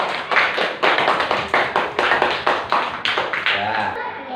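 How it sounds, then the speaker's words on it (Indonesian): A burst of applause from a group, many hands clapping in quick, dense rhythm, fairly loud and close, fading toward the end. "Tepuk tangan untuk Intan."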